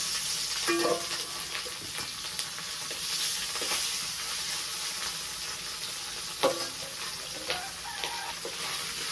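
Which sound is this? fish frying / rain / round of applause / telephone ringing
fish frying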